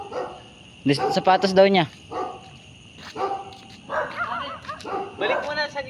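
A large dog barks in a short burst of loud, close barks and yips, then a few softer barks follow while people talk in Filipino nearby.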